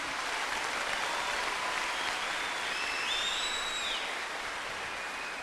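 Steady, dense applause from an audience at a Catholic talk by Padre Léo on the sacredness of the family, filling the whole stretch at an even level with no voices.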